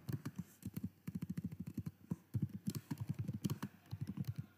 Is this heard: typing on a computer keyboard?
yes